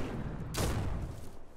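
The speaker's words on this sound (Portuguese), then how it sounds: "Não, vamos só dar tiros." Gunfire in the video game Biomutant: a single sharp broadband shot bursts out partway through, trailing off into a low rumbling game soundscape with no speech.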